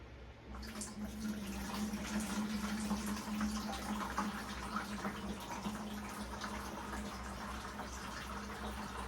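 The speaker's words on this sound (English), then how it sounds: "So I am going to give her a nice watering here." Water pouring steadily into a potted plant's soil, a faint continuous trickle and splash running through the whole stretch without pause.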